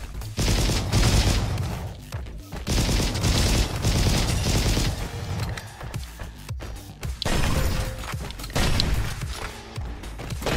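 Rapid, heavy gunfire from assorted weapons in the first-person shooter roguelite Roboquest, with dense bursts and explosive blasts continuing almost nonstop, loud and close, with no speech.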